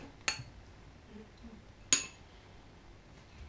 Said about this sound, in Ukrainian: я мішу маленькою ложечкою